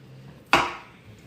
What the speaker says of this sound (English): with the New York strip, I'm gonna cut off the fat strip on it because that won't be good in our steak.